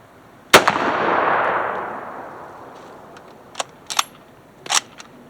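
A 1943 Lee Enfield rifle fires one loud, sharp close shot with a long decaying echo, followed a few seconds later by a few fainter clicks and clacks, likely the bolt being worked.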